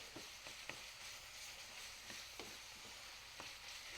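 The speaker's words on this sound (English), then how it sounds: "the sausage is browning up nicely" Sausage browning in a pan for a homemade supreme pizza, a steady soft sizzle with a few quiet scrapes of a utensil stirring, no talking.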